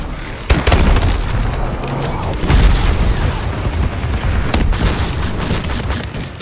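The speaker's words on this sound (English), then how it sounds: "Friendly bombing run clearing the way." Bombing run explosions in Call of Duty: Advanced Warfare multiplayer: dense, loud booms and rumbling blasts pile up continuously, mixed with crackling gunfire and sharp impacts throughout.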